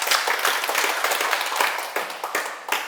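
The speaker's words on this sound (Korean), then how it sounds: "자, 박수 한번 보내주세요." Audience applause at a Korean talk show or lecture event, a dense wash of clapping from a crowd that holds steady for about three seconds before thinning slightly at the end.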